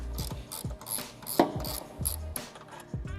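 A ratchet with a 13mm socket loosens a bracket bolt holding the PCM on a Dodge Charger, giving a steady run of close, crisp mechanical clicks.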